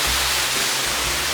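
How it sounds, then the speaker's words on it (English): Waterfall dropping into a pool about 15 meters deep, a steady loud broadband rush of falling water with no breaks. "Waterfall number 3 is 15 meters deep"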